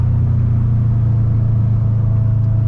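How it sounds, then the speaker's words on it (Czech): A Subaru car engine hums with a loud, steady low drone from inside the car while driving, with no change in pitch. "slyšíš to bovko, slyšíš ten motor"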